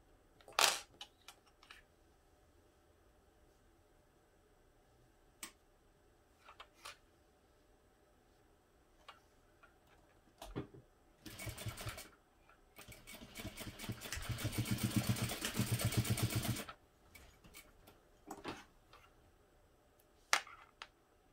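A sewing machine bastes the ends of a crossbody bag strap fitted with a rectangle ring, using a quarter-inch seam. Quiet clicks and short stitching bursts lead into one loud, sustained run of about four seconds, followed by scattered faint clicks.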